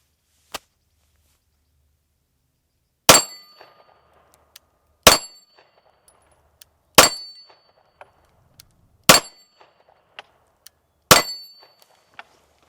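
An H&K VP9 pistol fires at steel targets: five sharp, ringing metallic clangs spaced about two seconds apart, each with a short decay, plus a faint earlier tick, with no talking.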